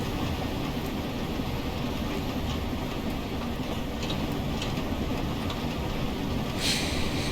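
An LMS Stanier 8F steam locomotive in a train simulator runs steadily over flat track near Runcorn, a continuous loud rumble and rolling clatter with no pauses or speech.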